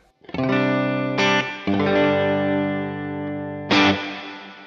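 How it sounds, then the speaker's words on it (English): Electric guitar chords strummed a few times in a clean tone through a JHS Colour Box V2 pedal, each ringing out and sustaining with a heavy reverb wash; no voices. "Here's my clean tone with a little bit of reverb."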